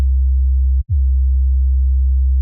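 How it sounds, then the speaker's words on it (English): A separate sub-bass layer from a Serum synth patch sounds as a loud, steady, pure low hum that briefly cuts out and restarts, then sustains alone to the end. "Removing the fundamental node and adding a separate sub-bass layer, that just makes sure that you have a clean and stable low end"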